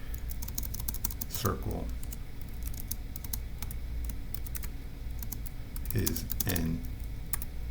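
Steady typing on a computer keyboard, with rapid clustered key clicks in bursts under continuous nearby talking.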